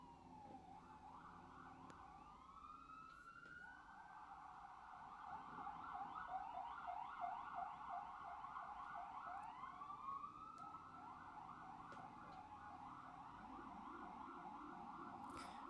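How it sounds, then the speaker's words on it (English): Emergency vehicle sirens pass outside, faint and distant, wailing up and down in overlapping sweeps with a low hum of road traffic beneath and no voices. "Sorry about the sirens, guys."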